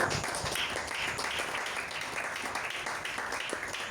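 A church congregation applauds steadily through the whole stretch, a dense, even wash of many hands clapping in a large room, with no voice over it.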